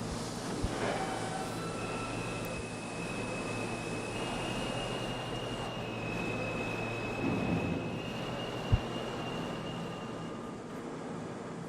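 A D express subway train rumbles along while switching tracks on a snowy run, with a steady wheel drone, a thin sustained squeal and a single sharp clunk near the end.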